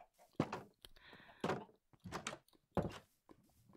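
Several doors opening and closing in Minecraft 1.14, a string of short wooden thunks and clacks in irregular succession, fairly faint, with no talk over them.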